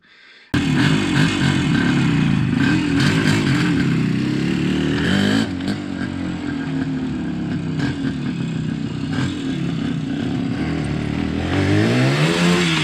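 IZh motorcycle engine fitted with a PD30 carburetor runs steadily and loudly close by, with a mechanical clatter and a brief rise in revs near the end.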